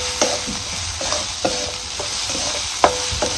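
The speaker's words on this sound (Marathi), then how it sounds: "आता चांगला हिव मसाला आपल्याला हलवून घ्यायचा" Spice masala for Marathi sprouted matki dal kanda is stirred in a hot pan, with a steady sizzle and repeated scraping strokes of the spoon close by.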